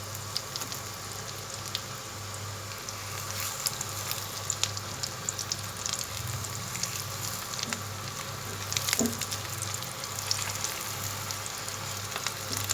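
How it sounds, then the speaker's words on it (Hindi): Beef shami kebabs fry in hot oil in a pan, giving a steady, dense sizzle and crackle with a faint low hum underneath, continuous and close with no talking. "जब ऑयल गरम हो गया तो अब हमने कबाब डालने शुरू कर दिए हैं। अब ये फ्राई हो रहे हैं।"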